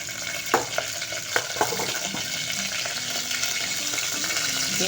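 Cumin and mustard seeds hit hot oil for a sambar tempering, giving a steady close sizzle with a few sharp pops and crackles near the start.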